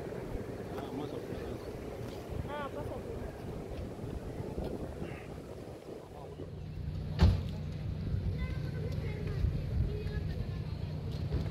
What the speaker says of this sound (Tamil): இந்த அணையில் நீர் தடுத்து வெளியேறக்கூடிய அந்த சத்தம் ரொம்பவே அழகாக இருந்தது கேட்குறதுக்கு